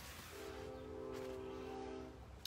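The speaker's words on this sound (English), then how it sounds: "And there's the train." A train horn sounds one sustained blast lasting about two seconds, somewhat distant and moderately quiet, over a low rumbling background.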